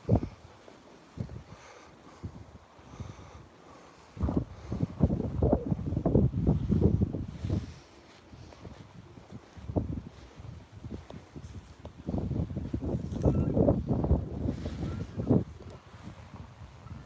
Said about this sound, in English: Gusty up here, isn't it?